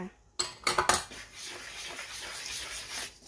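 Utensil clinking and scraping against a bowl while stirring a batter of rice flour, all-purpose flour, sugar and yeast, a few sharp knocks at first followed by steady soft stirring, close by.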